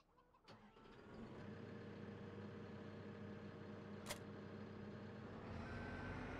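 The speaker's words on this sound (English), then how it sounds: "actually we'll just get our skid steer" A skid steer in Farming Simulator 17 runs with a steady, close engine drone, a sharp click partway through and a thin electronic beep near the end.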